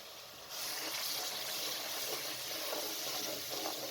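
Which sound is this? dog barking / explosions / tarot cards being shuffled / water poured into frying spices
water poured into frying spices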